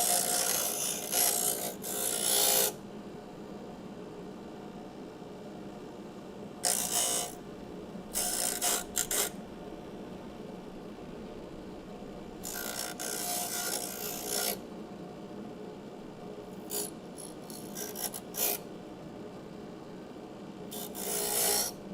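Metal is deburred on a bench grinder during car floor repairs, giving intermittent rasping bursts of contact over a faint, steady background hum, fairly quiet and a little distant.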